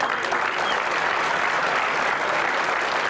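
Audience applause at the Kenosha Twins minor league ballpark, a steady dense clapping from a crowd that holds at full strength throughout without pause.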